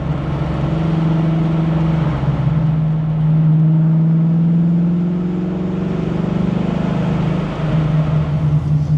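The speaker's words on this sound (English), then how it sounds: "To put a lot of load on the engine." Ford Foxbody Mustang with GT40 heads and B cam, heavy engine drone under load as the car accelerates, pitch rising and dipping with a loud sustained roar and no voices over it.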